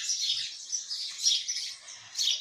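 Birds singing in a backyard with plants, a continuous chorus of high chirps and tweets at moderate distance, with no talking.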